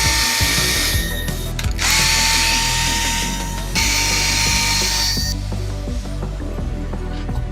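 A power driver runs in short bursts, whining and ratcheting as it drives a couple of screws into a Tamiya CC-02 RC crawler chassis, loud and close with pauses between bursts.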